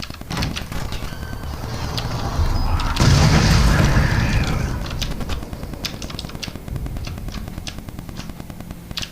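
A bomb going off outdoors in a horror video game: a heavy low boom swells around the third second and fades over a few seconds amid scattered sharp crackles, with no speech.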